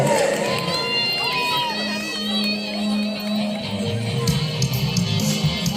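An audience at a stage show cheers and shouts loudly and continuously, a mix of adult and children's voices in a lively crowd roar.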